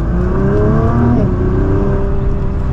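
Steady rumbling engine of a Nissan GT-R R35 with stock exhaust, smooth exhaust drone, pitch rising slightly then settling, close and fairly loud throughout.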